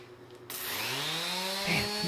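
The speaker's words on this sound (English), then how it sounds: "Time to sand." A power sander starts up abruptly on wood for a hall table, settling into a steady, loud whine with shifting tones, no one talking over it.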